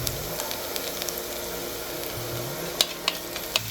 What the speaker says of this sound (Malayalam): നമുക്ക് ആ എണ്ണയ്ക്കകത്തോട്ട് പെരുംജീരകം ഇട്ട് കൊടുക്കാം.